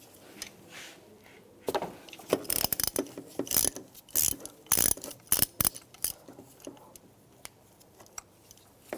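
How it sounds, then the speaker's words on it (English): A ratchet fitted with a 5/8 spark plug socket and extension loosens a spark plug on a 2006-2011 Cadillac DTS, giving close, loud clicking in uneven bursts with short pauses between strokes. "a 5/8 spark plug socket with an extension"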